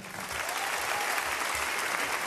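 Concert audience applauding steadily and continuously at a hall performance, a dense wash of clapping held at even loudness throughout.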